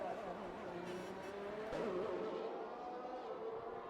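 Racing cars in the F1 2021 video game at Imola, a steady engine drone with a rising pitch sweep as a car works through a chicane, continuous and fairly distant beneath commentary.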